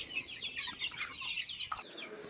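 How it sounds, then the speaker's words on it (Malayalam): Two-month-old chickens on a poultry farm cluck and chirp in a busy, continuous chorus at moderate distance, with no talking over them. "ഈ വീഡിയോ കാണുന്ന കോഴികൾ ഇന്നത്തേക്ക് കറക്റ്റ് 2 മാസം പ്രായമായി."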